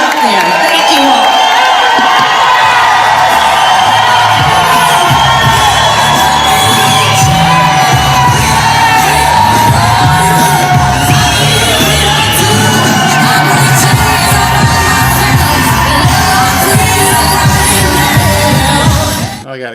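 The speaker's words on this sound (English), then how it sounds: "That sounded like she had a raucous crowd and she gave a great speech." Raucous crowd at a Trump rally in Latrobe, Pennsylvania, cheering, whooping and yelling continuously, loud and dense throughout, with a voice cutting through the roar.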